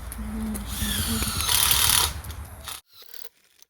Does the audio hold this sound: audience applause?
no